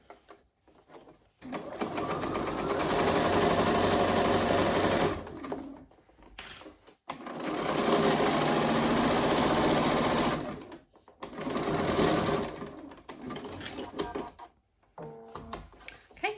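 A sewing machine runs down both sides of the outer fabric in three loud, sustained bursts, broken by brief pauses where the fabric is turned, with light clicks between runs.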